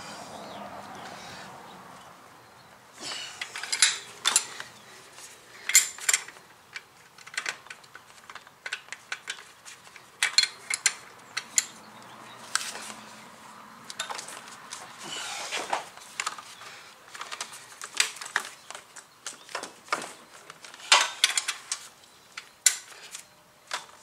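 A wrench works on a 15 mm top bolt of a 2015 Ford Transit 250 during alternator and belt work, producing scattered sharp ticks and clicks up close, irregular and fairly quiet.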